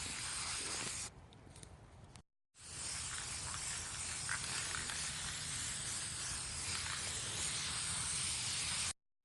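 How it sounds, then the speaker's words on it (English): A spray paint can sprays in a steady hiss, with a short burst, a brief pause, then a long continuous spray. "After all of your pieces that you spray painted have dried"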